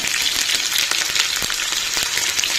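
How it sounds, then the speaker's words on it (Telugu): Onions, green chillies and curry leaves fry in hot oil in a pan for sweet potato soup, giving a steady, close hiss of sizzling with small crackles and a couple of sharper pops throughout. "మిక్స్ చేసి కొంచెం ఫ్రై అయ్యే వరకు వెయిట్ చేద్దామండి"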